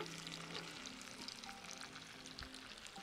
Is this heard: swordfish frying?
yes